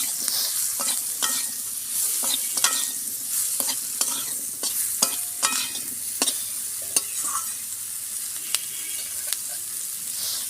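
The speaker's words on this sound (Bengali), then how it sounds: "পেঁয়াজগুলো দিয়ে আমি একটু ভাজবো।" Onions fried in a pan for a Maggi noodle dish: a continuous sizzle punctuated by a dozen or so sharp spatula scrapes and taps as they are stirred, close and fairly loud, with no voices.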